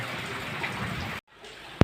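Steady rain falls in a dense, hissing wash, cuts out abruptly, then resumes more faintly before a single sharp knock.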